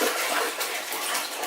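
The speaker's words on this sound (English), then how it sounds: "grab the whole bucket of Ozarka and just go ahead and fill that up" Water pours from an Ozarka jug into a cooking pot in a steady, bright gushing rush, close and continuous, with no talk over it.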